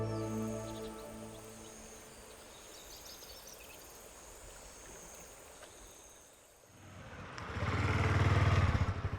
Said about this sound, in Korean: 오토바이가 피발령을 넘어 도착한 곳.